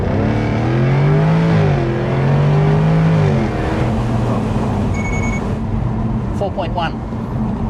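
A supercharged 5-litre intercooled V8 in a Jaguar F-type R roars close and loud under hard acceleration from a launch, the pitch climbing through gears with brief dips at shifts, then settling to a lower drone.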